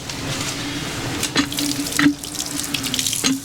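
Water flows from the outlet of a newly bought pump into a basin, a steady close gushing splash with a low hum beneath and a few brief clunks and drips, with no talking.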